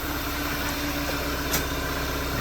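A 2013 VW Tiguan engine idles cold with the oil pressure sensor unhooked, giving a steady, close, continuous hum and rumble with no talk.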